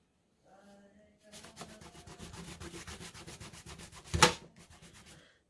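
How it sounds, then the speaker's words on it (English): Coppery gold paste is rubbed by hand into a textured mixed media art page, a steady rhythmic scrubbing close by with one louder swipe near the end; a voice murmurs briefly at the start. "There, just rub it right in."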